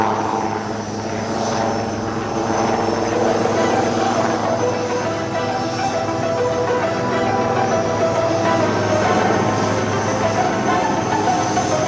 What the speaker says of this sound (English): light combat helicopter Prochhand, right in front of you. It's now readying to perform some lateral movement parallel to the runway